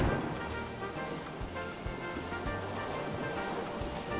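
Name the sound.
rippling water in Kingdom Hearts Final Mix, video game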